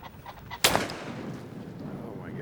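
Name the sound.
20 gauge shotgun shot at a pheasant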